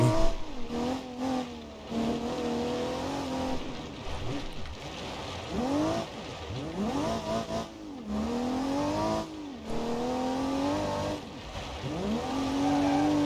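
Racing car in BeamNG.Drive on a rally course, engine revving up and down through repeated gear changes with brief tire noise, loud and continuous throughout.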